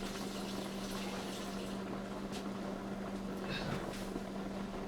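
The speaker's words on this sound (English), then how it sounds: "use a paper towel to actually turn off the faucet" Water runs steadily from a faucet with a constant hissing flow and a faint hum underneath, unbroken for about five seconds, quiet and fairly close with no talk.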